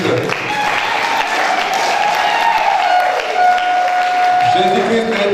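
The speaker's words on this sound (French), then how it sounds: "applaudissez encore une fois pour Jésus-Christ" A wedding congregation at a religious ceremony applauds for Jesus Christ, steady clapping running through the whole clip with crowd noise and a raised voice or tone over it.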